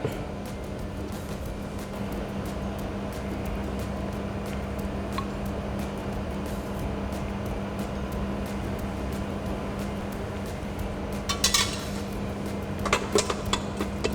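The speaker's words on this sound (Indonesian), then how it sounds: "Kita akan kocok whipped cream kita" An electric mixer whips cream in a bowl with a steady, faint motor hum and whir, and a few clicks and taps near the end.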